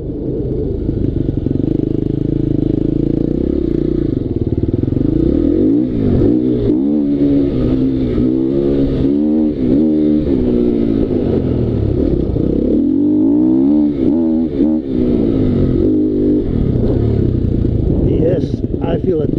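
A KTM 250 XCF-W motorcycle engine with an adjusted throttle sensor idles and revs repeatedly on a test ride, blipping up and down in quick throttle bursts, loud and close throughout.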